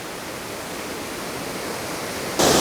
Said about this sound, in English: And there is the waterfall.